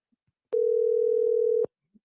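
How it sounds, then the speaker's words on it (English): A telephone dial tone before placing a call: a single steady electronic hum lasting about a second, clean and loud against near silence, framed by faint clicks at its start and end. "We about to make a phone call, man."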